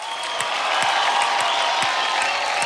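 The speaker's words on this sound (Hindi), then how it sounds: "एक बार जोरदार तालियां मारिए आदित्य के लिए" A studio audience on a comedy show applauds for a guest named Aditya, dense clapping with a few cheers, loud and sustained across the whole stretch with no talk.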